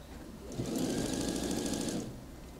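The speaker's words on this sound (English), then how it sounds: "we're going to top stitch over the top of that" A sewing machine runs steadily for about a second and a half, top stitching a coat seam with the allowance turned toward the lining, close and fairly quiet with no voices.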